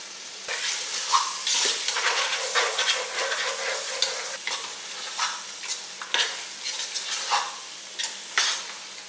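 Tomatoes sizzling and frying in a pan for mutton biryani, stirred repeatedly with scraping strokes over a steady crackle, close and moderately loud, with no talking.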